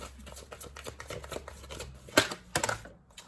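Tarot cards being shuffled and drawn close up, a run of soft papery flicks and taps that ends in a couple of sharper slaps as a card is laid down, with no voices.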